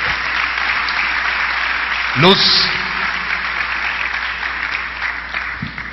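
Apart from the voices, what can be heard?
church congregation applause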